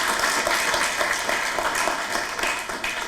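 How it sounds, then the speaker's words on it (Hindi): Studio audience applauding on a Hindi talk show, a dense, steady wash of clapping heard alone for a few seconds and tapering slightly at the end. "जोरदार तालियां मनोज जी के लिए"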